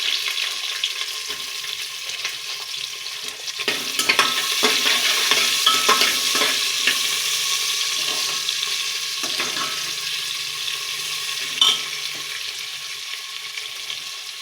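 Chopped onion sizzles in hot oil with masala spices in a pan, stirred with a utensil, giving a loud, close frying hiss with repeated scraping clatters from the stirring.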